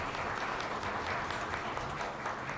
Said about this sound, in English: Please give him a big round of applause for welcoming.